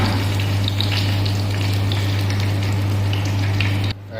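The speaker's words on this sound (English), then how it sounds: "So our oil already heated, we just put little cumin seed and this our whole this dried round chili. Okay, and have to saute this." Cumin seeds and whole dried round chilies sizzle in hot oil, a dense, steady crackling fry close by with a low hum underneath, cutting off abruptly near the end.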